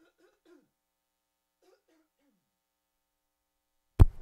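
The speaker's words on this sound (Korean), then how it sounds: "기침이 나와갖고" A single abrupt cough from a man near the end, loud and close, after near silence with faint murmuring earlier.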